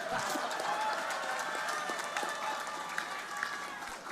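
A crowd at an outdoor mangrove botanical garden inauguration ceremony in Surabaya claps continuously, a dense, even patter of many hands held at moderate distance, with a voice faintly mixed in.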